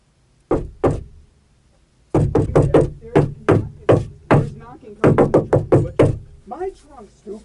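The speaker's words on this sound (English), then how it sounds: "it's a fucking knocking" Loud, close knocking from inside a car trunk, coming in rapid clusters of sharp thumps separated by short pauses.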